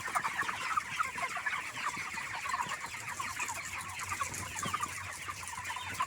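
A flock of 28-day-old broiler chickens on a poultry farm clucks and murmurs continuously, many overlapping calls forming a steady, busy chatter with no talking.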